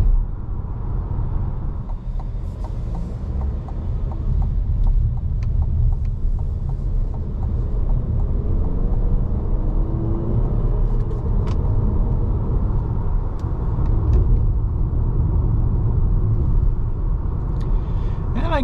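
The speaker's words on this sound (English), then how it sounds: "putting it down about half throttle the gas there, and pretty good passing power there" A 2024 Cadillac XT4 with a 9-speed transmission accelerates at half throttle, giving a steady low engine and road rumble from inside the cabin with faint scattered clicks, continuous for about nineteen seconds.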